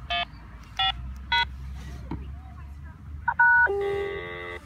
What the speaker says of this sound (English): So I'm dialing them simultaneously.